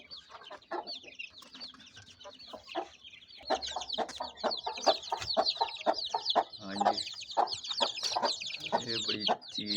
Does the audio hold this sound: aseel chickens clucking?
yes